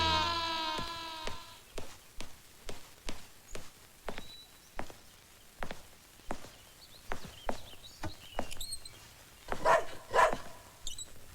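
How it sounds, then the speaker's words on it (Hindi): A dog barks in a Bollywood action movie scene. The barks come as a steady, evenly spaced series of sharp yelps, fairly loud, against a faint soundtrack and background noise. "ये रोमियो क्यों भौंक रहा है? घर में कोई दूसरा कुत्ता आया है?"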